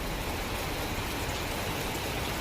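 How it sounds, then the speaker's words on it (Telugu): Steady, dense hiss of rain falling across the whole clip, an even wash of noise with no pauses or voices. "వర్షం ఎక్కడ తగ్గుతలేదు."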